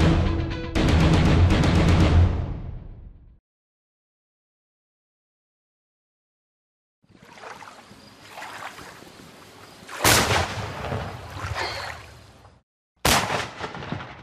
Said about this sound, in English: started out the day firing off a cannon with Sheldon Day